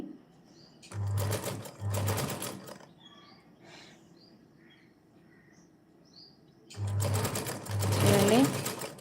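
A sewing machine driven by a foot pedal stitches a long frock in two short bursts of buzzing, a quiet pause between them, then a longer run at the end.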